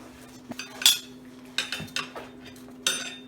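Metal tire spoons clink and scrape while prying a rim lock under a tire, installing a bib mousse: a few sharp metallic clanks and scrapes at irregular intervals, close and moderately loud, over a steady low hum, with no talking.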